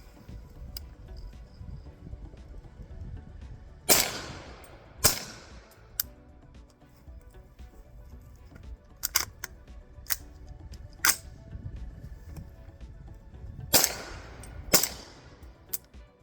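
A 300 Blackout rifle being tuned on a farm fires sharp, cracking shots, mostly in quick pairs with gaps between, alongside smaller clicks and light background noise.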